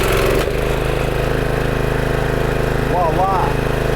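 A small engine on a generator or pressure cleaner runs loudly and steadily at close range, a continuous chugging drone with a brief hiccup near the start.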